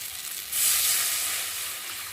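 Water poured into hot fried fish masala in a pan sets off a sudden loud sizzle and steam hiss, rising sharply then slowly easing, with no talking.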